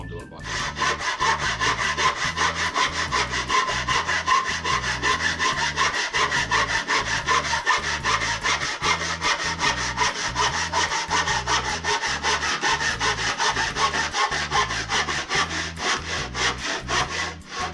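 Steady back-and-forth strokes of a hand saw cutting through wood, rhythmic and close, continuing without pause and with no voices.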